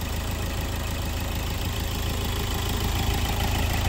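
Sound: Hyundai Verna 1.6 CRDi diesel engine idling

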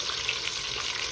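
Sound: pork leg searing in a pan

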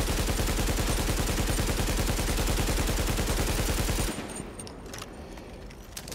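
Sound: AK rifle gunfire in Tom Clancy's The Division video game

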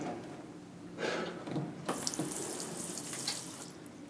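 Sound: water running from tap over injured finger

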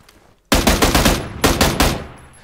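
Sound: gunfire killing an enemy in the video game PUBG

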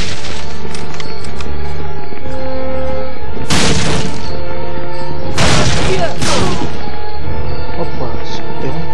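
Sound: pistol shots in video game Medal of Honor Frontline

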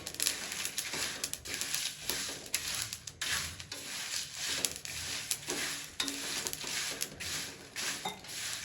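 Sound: dry roasting whole garam masala spices in a pan

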